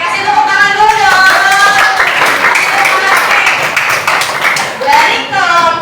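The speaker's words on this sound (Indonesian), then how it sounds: "Oke, kasih tepuk tangan dulu dong." Students give a round of clapping in a classroom. The claps are dense and fairly loud, with voices talking and calling over them.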